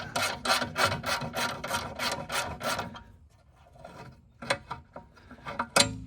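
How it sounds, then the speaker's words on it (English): A ratchet wrench turning out bolts on the push bar of a Charger, a fast run of clicking strokes followed by a pause, then a few separate louder ratcheting bursts, close up. "in order to get this thing off, just got to pull both of these bolts out"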